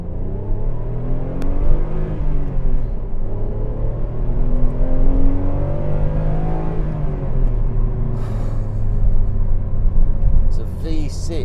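A Renault Clio V6 engine revs up and down in smooth, rising and falling sweeps, a fairly close, continuous growl with a person talking over it.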